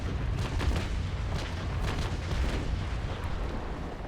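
An enemy sailing ship fires a cannon broadside in the Naval Action game: a sustained, dense low rumble of overlapping booms rolls on steadily with no clear gaps, heavy and continuous, with no voice.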